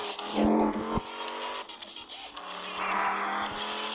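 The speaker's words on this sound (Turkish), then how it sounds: "Spor araba olduğu için hızlı geçebiliriz." A sports car drives fast with a roaring engine and squealing tires, loud and close, its pitch rising and falling over a continuous rush of noise.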